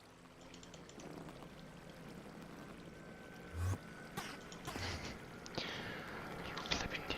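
Flowing water trickles and pours in Minecraft, a soft, continuous stream with several short splashy bursts, faint and close.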